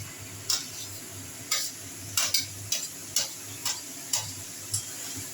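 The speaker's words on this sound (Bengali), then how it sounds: "আবার এটা একটু নাড়িয়ে দিয়ে" Spoon or spatula scraping through potatoes and pointed gourd in a frying pan, a steady series of about ten sharp, close stirring scrapes in a loose rhythm over a faint low hum, with no talking.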